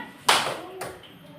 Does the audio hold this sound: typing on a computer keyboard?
no